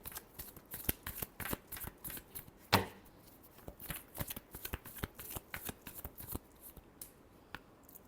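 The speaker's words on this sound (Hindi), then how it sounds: "Last shuffle." Tarot cards being shuffled by hand in a series of quick riffling bursts and soft slaps, close and crisp, with a louder snap partway through and short pauses between shuffles.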